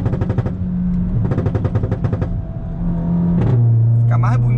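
A Volkswagen Golf GTI with a straight-pipe exhaust revs hard, with rapid crackling pops and burbles in two bursts over a loud engine drone, then a steadier revving tone.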